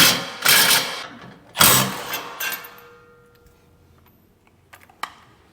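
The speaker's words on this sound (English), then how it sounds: "we're going to back out this 18 millimeter bolt" Ratcheting clicks from a wrench backing out an 18 millimeter bolt on a Toyota Tacoma, two bursts of close, rapid ticking that fade into quiet with a few light metallic taps.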